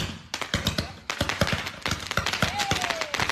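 Fireworks from a launcher at an outdoor sports event go off in a rapid irregular series of sharp cracks and pops, dense and loud throughout, with a whistling tone near the end.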